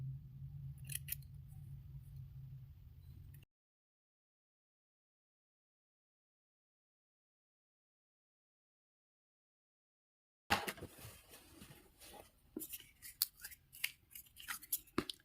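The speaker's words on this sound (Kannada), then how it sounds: "ಈ ಥರ ಕಟ್ ಮಾಡ್ಕೊಳ್ಳೋಣ ಸೈಡಲ್ಲೆಲ್ಲ." Scissors snip silk thread for a handmade rakhi, a series of quiet, close, irregular clicks and cuts near the end following a long silence, with a low steady hum at the start.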